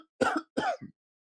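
A person clears their throat twice in quick rough bursts, close and fairly loud, followed by a short low grunt, then silence.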